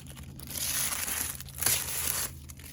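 Plastic wrap is crinkled and pulled off a Costco Jetson Bolt Pro folding electric bike, a short, quiet run of close rustling and crackling.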